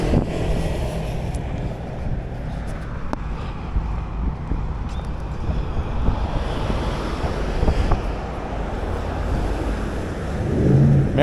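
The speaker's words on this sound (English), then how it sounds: "There's the water." Water at London Bridge laps and washes steadily, a continuous broadband surf heard alongside wind noise against the microphone, with no voices.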